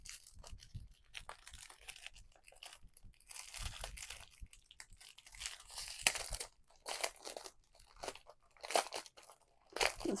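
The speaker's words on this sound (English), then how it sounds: "This glue is strong on these plastic bags." A strongly glued plastic bag is pulled open in repeated crackling, crinkling bursts that come close and loud in uneven pulls, with short pauses between them.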